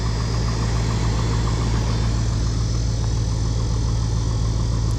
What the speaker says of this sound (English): you hear that lower end knock?